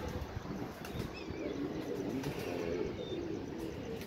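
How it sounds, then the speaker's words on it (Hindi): A pigeon landing on a rooftop, with soft wing flaps and faint chirps over a steady outdoor hum, fairly quiet throughout. "ये जी माशाल्लाह दूसरा कबूतर बैठते हुए।"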